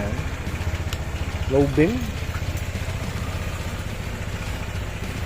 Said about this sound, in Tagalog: So, start muna natin yung motor.